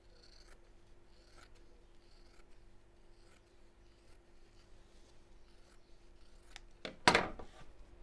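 Scissors snipping through quilt wadding for sewing oven gloves: quiet, close, intermittent crisp cuts spaced a second or so apart, ending in a louder rustle of handled fabric.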